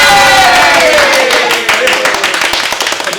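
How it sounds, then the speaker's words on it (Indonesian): A studio audience on an Indonesian food-challenge show claps and cheers loudly in a dense, continuous burst of hand claps and shouts that thins out slightly toward the end. "Kalau begitu tepuk tangannya mana?"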